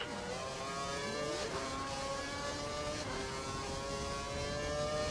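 A Formula 1 car engine in the F1 2012 racing game during a race in China whines continuously at high pitch, with gear shifts and rising and falling revs, loud and steady with no talking.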